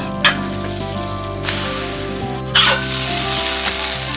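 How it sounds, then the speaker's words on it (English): Pancakes sizzle on a Blackstone griddle just after flipping. A steady close frying hiss runs throughout, with a few brief louder spatters and a low background hum, and nobody talks. "Time to flip the pancakes."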